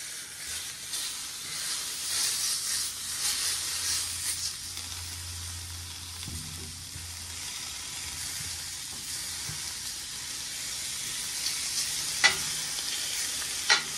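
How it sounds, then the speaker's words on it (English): Steaks sizzling loudly in a pan while being basted with butter, a continuous close crackle and hiss with occasional spoon clicks and spattering pops. "Let's lay the steaks flat down and start basting them now with butter"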